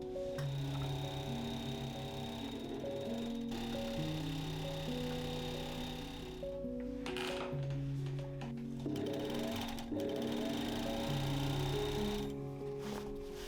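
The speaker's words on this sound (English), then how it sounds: "I could cover all the raw edges with the overlock" An overlock machine finishes the raw edges of a velvet dress in several runs of steady, fast mechanical whirring, with short pauses between runs, close and moderately loud.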